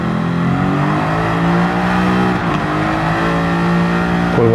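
Aston Martin V8 Vantage in Gran Turismo 7, engine revving hard under acceleration with rising pitch, a brief dip at a gear shift, then climbing again, loud and close.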